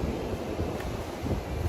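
Strong wind on an Appalachian Trail mountain roars steadily as a dense, low rumble buffeting the microphone, continuous and close throughout with no voices.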